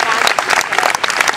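Audience applause at a live Festa de Il Fatto Quotidiano event in Taneto, Reggio Emilia, a dense steady clapping from a crowd that fills the whole short stretch at close range and high loudness.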